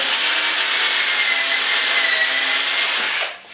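A power drill boring the last holes for eccentric cam fittings in a hallway mirror shelf, a steady loud whirring whine held for about three seconds before winding down and stopping.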